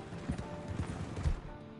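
Horse hooves clip-clop in a quick galloping rhythm in the video game Red Dead Redemption 2, fairly close, with soft thuds repeating throughout.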